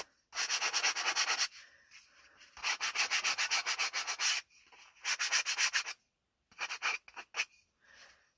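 Wood pieces are sanded by hand for an art caddy: bursts of steady back-and-forth rasping strokes in three long runs, then a few short, scattered rubs, close and fairly loud with no talk.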